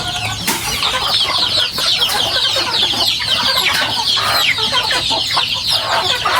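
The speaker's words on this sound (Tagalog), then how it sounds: "magpapakain na muna ng mga alaga pong manok" Several chickens cluck and chatter continuously nearby, with occasional sharper calls over a busy farmyard background.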